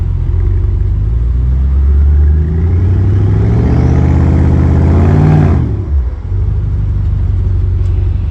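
A loud, deep BMW M550 engine and exhaust rumbles close by, revving up to a rising roar before dropping back to a steady idle.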